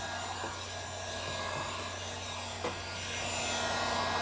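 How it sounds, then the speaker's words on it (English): A heat gun blows on its weld setting during window tinting, a steady close whooshing hum that holds constant throughout, swelling slightly toward the end. "heat gun, turn it up on weld"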